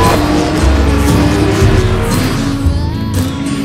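A race car runs hard on a track, its engine roaring loud and steady with shifting pitch and some tire noise, close and continuous without any talk.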